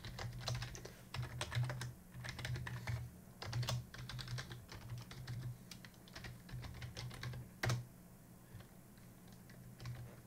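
Rapid typing of a command on a computer keyboard, steady close clicking keystrokes in irregular bursts with brief pauses and a few louder key hits, over a low background hum, with no talk.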